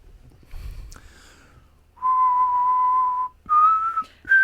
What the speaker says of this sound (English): Right, your turn to whistle.